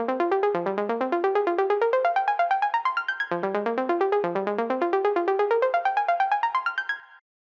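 Serum synth arpeggio jumping high and low across a wide octave range ahead of a techno drop, fast even notes rising in two long sweeping climbs that end with a sudden cutoff, loud with no voices.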